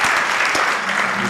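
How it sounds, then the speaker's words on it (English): A crowd applauds a team at an economics talk, dense steady clapping close and loud throughout the short burst. "Can we give them a serious round of applause? The whole team."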